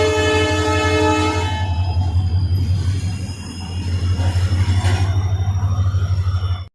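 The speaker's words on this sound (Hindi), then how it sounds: "अब इसमें मालगाड़ी आ गई है" Freight train pulling into an Indian railway station on the Delhi–Jodhpur route, a loud sustained horn blast over a heavy low engine drone and rolling wagons, close by and dominant throughout.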